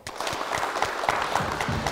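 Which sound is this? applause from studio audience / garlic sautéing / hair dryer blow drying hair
applause from studio audience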